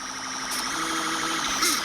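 A police siren wails continuously in a video game chase, a steady electronic up-and-down tone filling the short moment without any talk.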